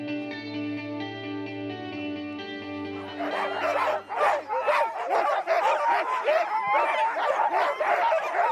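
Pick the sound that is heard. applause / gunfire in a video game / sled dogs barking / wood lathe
sled dogs barking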